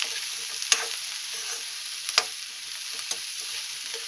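Chopped okra (bhindi) sautés in a pan, a constant close hiss punctuated by a few sharp spatula scrapes and clinks as it is stirred, with no one speaking.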